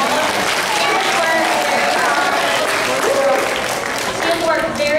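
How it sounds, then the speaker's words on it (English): Applause from an audience at an elementary school fifth-grade play, a dense, continuous patter of clapping with scattered voices and crowd noise mixed in throughout. "Let's give a round of applause."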